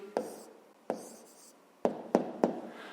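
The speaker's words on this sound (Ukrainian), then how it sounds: "Записуємо тоді відповідь." Pen strokes writing down a math answer on paper, five short distinct scratches spaced irregularly, close and fairly quiet with no talking.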